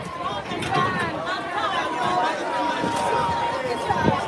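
A crowd at a dancehall show venue, full of steady overlapping chatter and shouting voices, a dense, close hubbub with no single dominant speaker.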